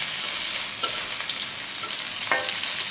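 Onions crackle and sizzle in hot soybean oil for Bengali masoor dal, a dense, steady frying hiss heard up close with a few soft stirring scrapes.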